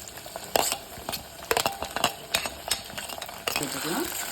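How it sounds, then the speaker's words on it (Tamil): Garlic and curry leaves fry and crackle in a pan for a Tamil manathakkali vatha kuzhambu, with steady sizzling broken by sharp pops and the scrape and clink of a stirring spoon against the metal. "பூண்டும் கறிவேப்பிலையும் சேர்த்ததுக்கப்புறம் படப்படன்னு நல்லா வதங்கிடுது பாருங்கள்"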